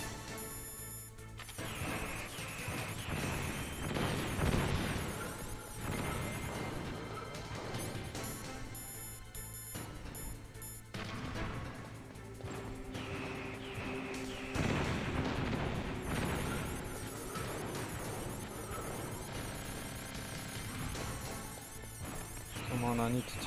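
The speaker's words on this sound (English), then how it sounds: "These rockets are so unforgiving." Rocket blasts and crashing impacts in the video game Metal Gear Solid, several loud booms and smashes scattered through a dense, continuous mix of game noise and music, with no break in the din.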